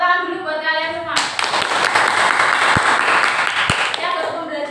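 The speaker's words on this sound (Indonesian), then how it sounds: "Tepuk tangan dulu buat kalian semua." Classroom applause from students, a dense burst of clapping starting after a voice and running for about three seconds before speech resumes.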